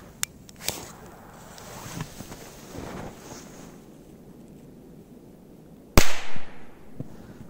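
A Korsar 1 firecracker bursts with one sharp, loud bang, followed by a brief echoing rumble against windy outdoor background noise, with a few faint earlier cracks from other small pyrotechnics.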